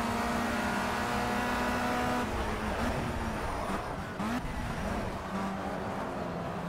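A race car engine in Project CARS revs and accelerates, a sustained buzzing drone that shifts pitch as it climbs through the gears, with a brief dip and surge partway through and no talk over it.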